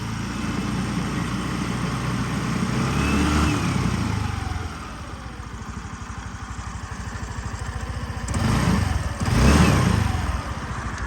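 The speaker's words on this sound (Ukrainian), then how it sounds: "Гарнецько працює двигунчик, м'якенько, тихенько, без зауважень." A 2020 Suzuki Address 125 scooter engine idles steadily with a soft, even putter, briefly rising in pitch twice. Close and alone, with no voices.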